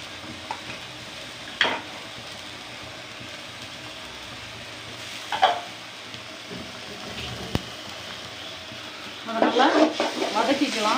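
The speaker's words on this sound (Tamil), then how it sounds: "வெங்காயம் வதங்கிக்க இஞ்சி பூண்டு பேஸ்ட் போட்டுக்கலாம்." Onions fry with ginger garlic paste in a kadai, giving a soft, steady sizzle broken by a few spatula scrapes and clinks, then louder stirring and crackling near the end.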